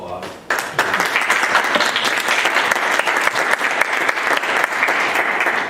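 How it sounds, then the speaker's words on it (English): Sustained applause from an audience at a Board of Education regular meeting, starting abruptly and staying loud and dense throughout, with scattered voices mixed in. "can we give them a round of applause?"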